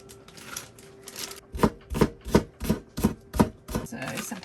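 A knife chops spring onion on a cutting board in a quick run of about eight close, crisp thuds that follow a few softer cuts.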